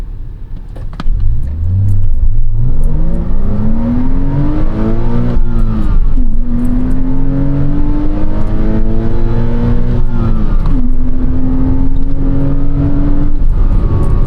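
A 2007 Porsche Cayman 987.1 pulling hard through its gears, the engine note rising loud and close, dropping at each upshift, then climbing again in a sustained in-cabin roar.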